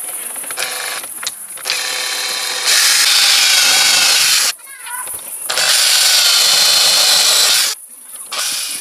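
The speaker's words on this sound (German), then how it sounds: "Also wir müssen jetzt vorbohren." A power drill bores pilot holes while fitting an odour-extraction system to a toilet cassette, giving several loud whirring bursts separated by short pauses and brief quiet gaps.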